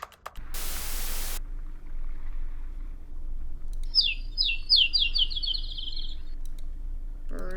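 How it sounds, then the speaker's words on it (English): Birds chirp in a quick run of bright tweets in the middle of a quiet outdoor scene, with steady static hiss underneath and a loud burst of noise near the start. "Birds are chirping and..."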